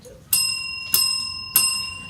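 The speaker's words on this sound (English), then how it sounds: "I also have a bell to signal that speaking time has ended" A hand bell rung three times at a county school board forum to signal that a speaker's time is up, each strike clear and ringing with a bright tone that decays slowly between strikes.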